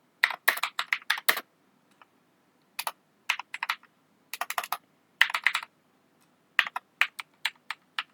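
Computer keyboard typing in bursts of rapid clicks separated by short pauses, with single sharper key presses for pasting and pressing enter, close and clear with no talking.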